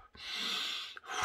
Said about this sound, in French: Je respire un peu profondément